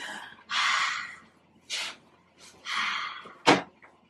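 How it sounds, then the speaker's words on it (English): Breathing during a yoga session: several breathy exhalations through an open mouth come in separate puffs a second or so apart, close and soft, with brief quiet gaps between them. "Exhale with an open mouth."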